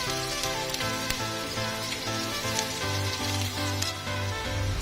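Garlic sautéing in a pan for a stir-fry of cassava leaves and papaya flowers, a continuous close sizzle with crackling pops, overlaid by steady background music.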